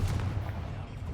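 The Confringo explosive spell in the video game Hogwarts Legacy goes off as a short, deep, booming blast with a rumbling low-end burst lasting about a second.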